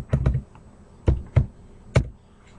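Keys on a computer keyboard are struck in a few separate close taps and short clusters, with quiet pauses between, while a movie title is entered for DVD burning.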